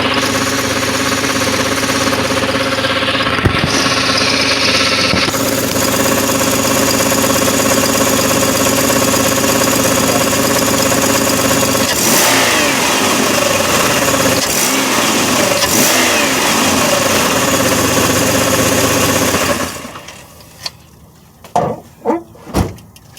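A 2004 Pontiac Grand Am GT with a supercharged 3800 engine runs with an odd, steady droning tone that shifts around mid-clip, loud and close, before cutting out into a few sharp knocks near the end.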